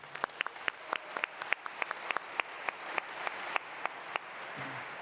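Applause from an audience at a conversation session at a festival, heard as a scattering of distinct claps repeating steadily across the whole stretch, moderately faint and without talk.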